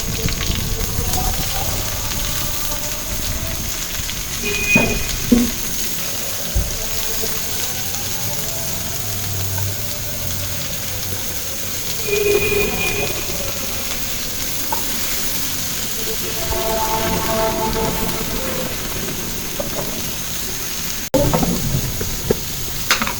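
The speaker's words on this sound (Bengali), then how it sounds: "আমি এখন করলাটা পেঁয়াজটা দিয়ে দিব।" Bitter gourd and onion are added to garlic and onion already frying in a pan, producing a steady sizzle with occasional stirring clatter and brief splashy bursts, heard close throughout.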